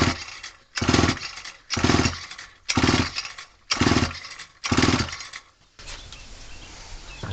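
A vintage Homelite WIZ chainsaw being pull-started, five or six loud rasping pulls in a steady rhythm, then a fainter hissy tail once the pulls stop, close up and with no voice.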